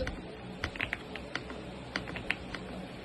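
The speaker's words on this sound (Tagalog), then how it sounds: "Ay, narinig nyo ba yung keyboard ko?" Typing on a computer keyboard during a game session, a quick irregular run of clicky keystrokes with scattered louder taps, close and fairly crisp over a low background hum.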